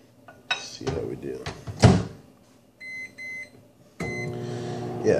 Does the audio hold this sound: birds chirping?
no